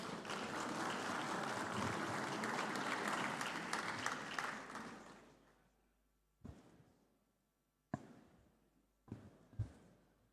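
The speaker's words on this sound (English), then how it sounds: "Please welcome him warmly with a round of applause." At a summit's main conference room, an audience applauds the Bank of Tanzania governor; dense clapping fades out after about five seconds, followed by a few isolated knocks and thumps in the quiet.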